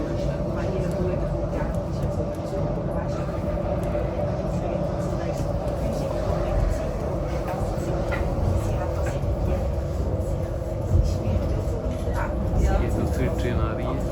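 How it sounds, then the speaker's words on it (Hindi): Polybahn funicular railway car arriving at its station in Zurich, a continuous low rolling rumble and mechanical hum with faint squeaks and clicks, heard from on board with people talking nearby. "ट्रेन आ रही है"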